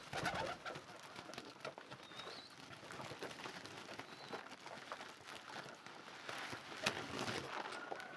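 Pigeons coo softly at a nest holding a chick and an egg, a quiet, low murmur of bird calls repeating over faint background rustle, with no talk.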